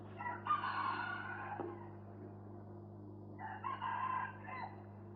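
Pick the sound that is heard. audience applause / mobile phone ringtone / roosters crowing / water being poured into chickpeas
roosters crowing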